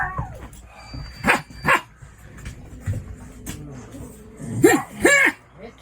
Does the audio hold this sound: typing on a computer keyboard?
no